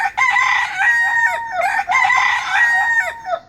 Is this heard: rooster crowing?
yes